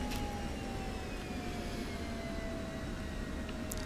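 A jet aircraft taxis in the DCS World flight sim on the Kola map: a steady, fairly quiet engine roar with a thin, slowly falling turbine whine running throughout.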